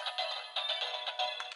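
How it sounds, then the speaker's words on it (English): Electronic phone ringtone from the DX A.I.M.S. Narikiri toy set, a bright, chirpy trilling melody in short repeating bursts, close and alone. "the phone is ringing"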